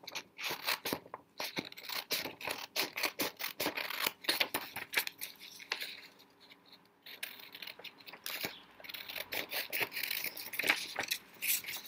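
Scissors snip steadily through paper while a tile design for printmaking is cut out, giving close, quiet, rapid crisp cuts with rustling and small pauses between strokes.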